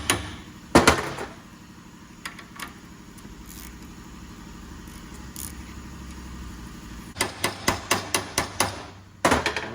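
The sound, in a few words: hammering on Honda CRV front suspension nut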